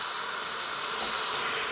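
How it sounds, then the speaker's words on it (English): Peaches sprayed with avocado oil sizzle on a Ninja Foodi indoor grill, a steady close bright hiss with no talk over it. "and you can hear it sizzling."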